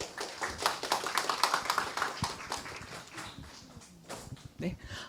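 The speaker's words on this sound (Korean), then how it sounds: "박수로 맞아주세요." An audience at a local arts forum in Geumcheon claps briskly for about three seconds, then the clapping tapers off into scattered taps and faint room noise.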